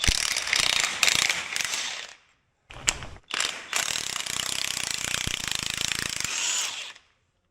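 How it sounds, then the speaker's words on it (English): Ratchet wrench with a chrome socket clicking as it removes nuts in a workshop, loud rapid bursts of pawl clicks in several runs separated by brief pauses, no talking. "an impact socket does not fit in here to get these nuts off"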